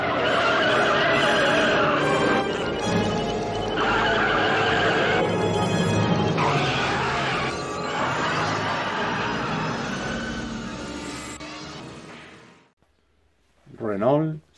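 A Scalextric Renault 5 Turbo slot car runs around a track with a loud, whining electric motor buzz that rises and falls through laps, then cuts out before a brief closing burst.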